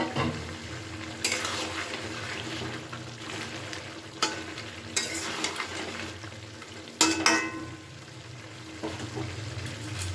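Fried small fish being stirred into cooked vegetables in a pan: a continuous sizzle with repeated scraping and clanking strokes of a utensil against the pan, close and fairly loud.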